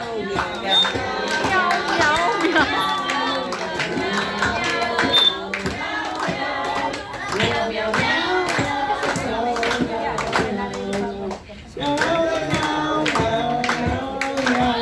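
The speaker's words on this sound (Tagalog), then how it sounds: "Sabayan natin si sir ng palakpak." A party crowd claps in steady rhythm along with a sung happy birthday song, sharp hand claps punctuating the singing and music, with voices cheering throughout.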